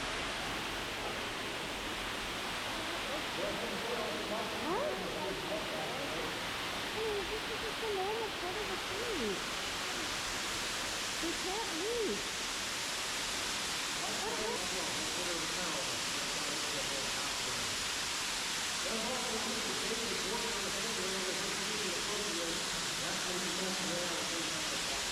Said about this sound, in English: Down this way is our waterfall room.